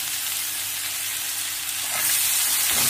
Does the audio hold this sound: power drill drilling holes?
no